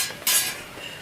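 A lid set onto a cooking pot of fish and potato curry makes a single quick metallic clink, close and fairly faint, then a short fading ring.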